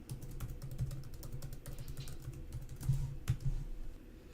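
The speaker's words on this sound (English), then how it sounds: "I need to enter my password again" Quiet, close typing on a computer keyboard as a password is entered, a steady patter of soft key clicks with a low background hum and no speech.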